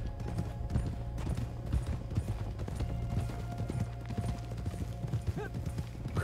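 Horse hooves clip-clopping at a steady walking rhythm in the game Red Dead Redemption 2, many soft repeated hoof falls close by over a low ambient background.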